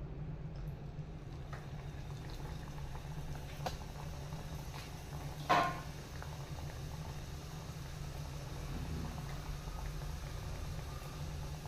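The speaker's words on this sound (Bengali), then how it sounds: "এরকম করে নিয়ে আমি ভেজে নেব তেলে।" Fish kachuri deep-frying in hot oil, giving a steady, close bubbling hiss over a low hum, with one brief clatter near the middle and no talking.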